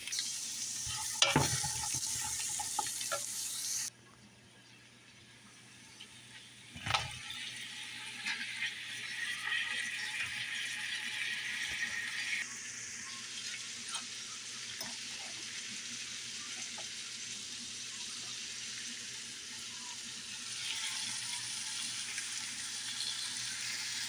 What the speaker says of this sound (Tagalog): sibuyas at bawang. Sabayin natin. Igigisa natin dyan.